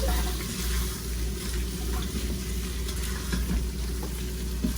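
A lentil mixture being stirred in a Ninja Foodi pot for Cuban-style lentils, a steady soft bubbling sizzle with faint scraping running evenly throughout, close and moderately quiet, no voices.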